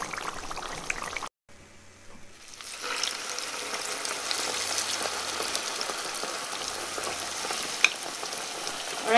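Banana turon frying in hot oil, a second batch going in: after a brief quiet start, a steady, close crackling sizzle builds and holds with small pops, and no one speaks.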